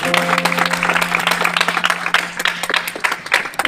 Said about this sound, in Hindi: जोरदार तालियां लगाएंगे भाई के लिए